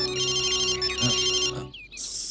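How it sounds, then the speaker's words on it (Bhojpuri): A telephone rings with a close, steady electronic tone that sounds in a short repeating burst, then stops abruptly and gives way to brief faint chirps. "सलोनी जी, एक मिनट रुके, थोड़ा फोन आता।"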